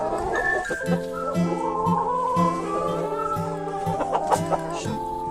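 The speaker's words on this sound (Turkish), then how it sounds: "bu horozun adı Kabasaka. Onun sesi çok güzeldir" A rooster clucks in a run of short, rhythmic calls, fairly close, with other fowl sounds and a faint voice around it.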